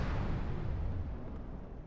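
Ship explosion aboard a starship in a Star Trek space combat video game: a sustained low rumbling roar with broadband crackle, fairly faint, fading slowly across the stretch with no voices.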